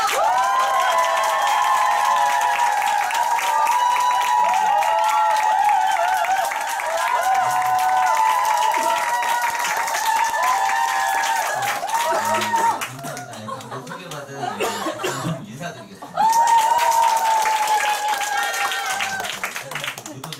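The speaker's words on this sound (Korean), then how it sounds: "팀 엘리트 박상용 사장님 나오실 때 큰 함성 박수로 모시겠습니다" Loud crowd cheering and clapping at a Nu Skin group meeting as an executive is welcomed on stage, a dense sustained roar with bright tonal voices across most of the stretch, briefly dipping before surging back.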